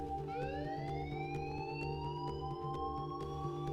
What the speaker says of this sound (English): Let's see if this kills the siren.